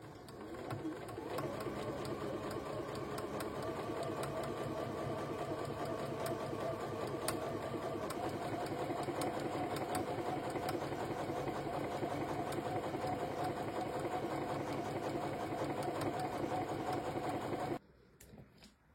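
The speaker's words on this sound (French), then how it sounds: "Et je vais piquer le plus près possible de la pliure du tissu." A sewing machine runs steadily for about eighteen seconds, stitching as close as possible to the fold of shirt fabric for a flat felled seam, then stops abruptly near the end.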